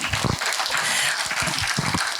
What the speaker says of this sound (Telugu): గట్టిగా ఒక్కసారి చప్పట్లు కొడదాం